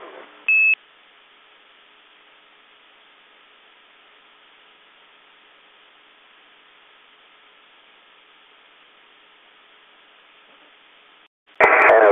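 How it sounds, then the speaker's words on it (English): Spacecraft master alarm tone on a space-to-ground communications loop: a short beep near the start, then a faint hissing radio channel, with a louder burst of tone-like noise at the very end. "we received and silenced the master alarm"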